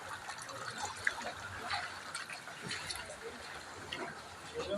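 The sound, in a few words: flood water flowing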